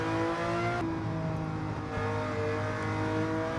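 A Ferrari 330 P4 race car in a racing video game holds a steady, high, buzzing engine note through the final chicane on the last lap, with a brief shift in pitch early on and no one talking.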